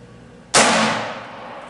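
Single sharp gunshot from a Beretta 9mm pistol fired during a chronograph velocity test, a loud sudden crack followed by a long decaying outdoor reverberant tail.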